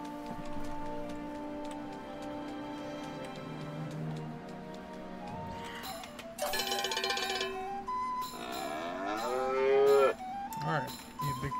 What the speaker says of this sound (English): Oh boy, the cattle ranch.